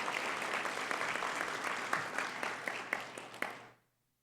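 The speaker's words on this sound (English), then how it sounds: "Let's give her a big round of applause." Applause at a city state-of-the-city address in Gresham for the Multnomah County Chair, a fairly distant crowd clapping steadily with a few louder individual claps near the end before it fades out quickly.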